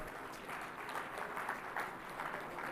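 Steady applause from a large audience at an India Maritime Week 2025 event, honoring the Chief Minister, fairly distant and sustained throughout with no speech over it.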